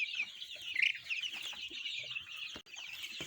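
Growing chicks in a brooder chirp and cluck continuously, a busy overlapping chorus of high peeping calls heard close by, with faint rustling beneath.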